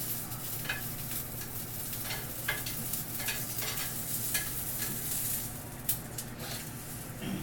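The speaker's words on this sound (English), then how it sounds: "So while these asparagus are cooking, you can kind of flip them" Asparagus spears cooking in a hot pan, with a steady close sizzle and frying hiss running throughout and occasional brief scraping or stirring clicks over it.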